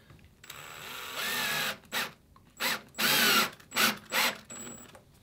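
A power drill drives screws into wooden dory boat frames in short whirring bursts, about six close bursts of varying length separated by brief pauses, with quiet workshop background.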